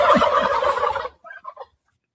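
A person gargling water to imitate a turkey gobble gives one loud, rattling, bubbly burst lasting about a second, followed by a few softer, brief gurgles and then silence.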